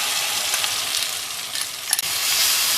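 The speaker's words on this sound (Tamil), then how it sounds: "இதை நல்லா கிளறிட்டே இருக்கணுங்க." Ground rice batter is stirred in a hot pan for uppu urundai, giving a constant loud sizzle with faint scraping and a small clink near the end, no voices.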